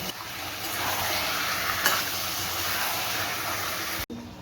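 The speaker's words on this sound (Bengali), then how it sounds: "মাংসটা সিদ্ধ করা মাংসটা আমি অ্যাড করছি মটনটাকে এইভাবে কষাবেন" Boiled mutton and fried potatoes stir-fried in a pan for mutton kosha give a dense, steady sizzle with soft stirring scrapes, ending in a sudden cut to near silence.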